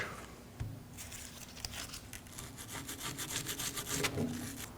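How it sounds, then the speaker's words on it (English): A wire brush scrubs a Subaru XV Crosstrek front caliper bracket in quick, rasping back-and-forth strokes, close and growing busier toward the end, with a sharp knock near the start and no talking. "Now you want to clean up both sides of the caliper bracket with a wire brush."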